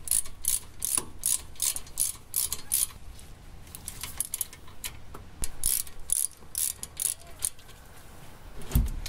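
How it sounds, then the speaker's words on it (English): Brake caliper bolts on a Volvo 850 front brake are tightened with a 7mm Allen key. Rapid ratcheting clicks come in close bursts with short pauses, ending in a metallic clunk. "grab your 7mm Allen key again and tighten those guys up"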